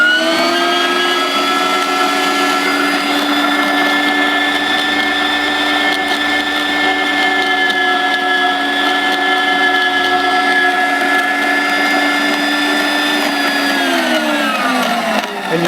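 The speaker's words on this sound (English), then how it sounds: "Put the beans in and turn it on to the high speed." WonderMix grain mill grinding coffee beans on high speed, a loud, steady high-pitched motor whine that holds evenly for the whole stretch and winds down near the end.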